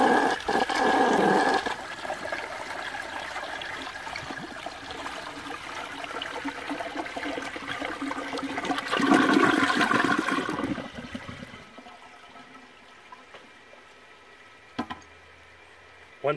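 A 1970 American Standard Cadet toilet flushes with a loud, close rush of swirling water lasting about ten seconds, then fades to a quieter trickle as the tank refills, with one brief knock near the end.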